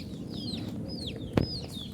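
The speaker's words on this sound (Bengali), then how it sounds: "এই যে একটা মুরগি" A hen clucks softly in a yard where small birds chirp in thin rising calls and one brief sharp knock sounds, all quiet and close with no voices.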